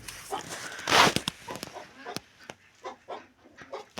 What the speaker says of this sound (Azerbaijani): Xoruzumuz bir fərəmiz orada